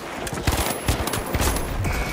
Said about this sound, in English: you're so lucky you had a shotgun right there